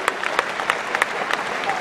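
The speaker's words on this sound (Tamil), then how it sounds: "முதல்ல அவங்களுக்கு ஒரு கைதட்டு கொடுக்கணும்" Audience applause at a Tamil poetry recital event, a steady wash of many hands clapping with scattered louder claps, fairly close and continuous.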